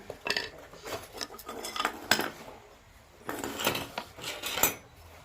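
Knife strokes and scraping on a board while cutting food in a kitchen, in irregular bursts of close, crisp clatter with short pauses between.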